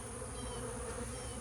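Honey bees buzz densely around a nuc hanging in a tree, a steady, loud, unbroken drone filling the air with no voices.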